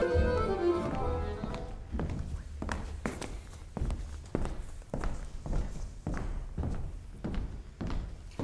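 Heavy stomping footsteps thud across a theatre stage in a steady, plodding rhythm, loud and close, with each step landing as a distinct bump.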